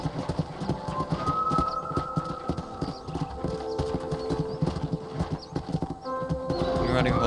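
Horse hooves clip-clop in a steady, continuous rhythm while riding in the PC version of Red Dead Redemption, layered with game ambience, faint bird calls and voices.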